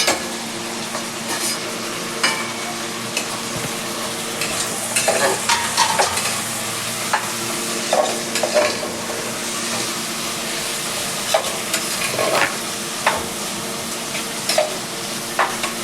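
Cut potatoes tumble into a hot pan for Guntur-style kichidi and get stirred, a steady sizzle and fry running throughout with repeated scraping stir strokes and light utensil clinks, close and alone without talk.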